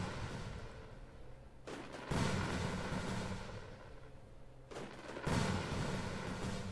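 Video game fireworks burst in two deep, booming explosions a few seconds apart, each followed by a long crackling decay, moderately quiet and with no talking.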